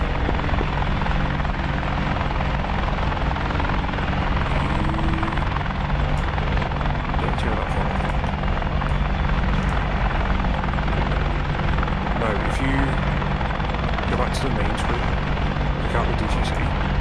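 AH-64 Apache helicopter in the DCS flight simulator, a steady loud rotor and turbine drone running throughout, with faint voices under it.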